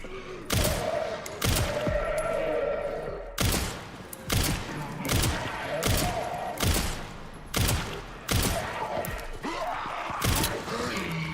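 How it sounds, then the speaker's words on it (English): Several shooters fire in the Resident Evil Requiem video game, with sharp, loud gunshots arriving in repeated bursts and clusters about every second over a busy, rumbling background. "Oh, there is more people shooting."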